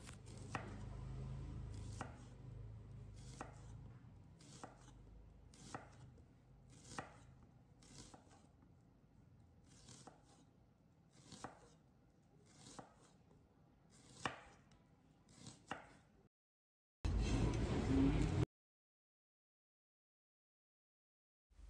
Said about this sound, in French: J'émince l'oignon blanc.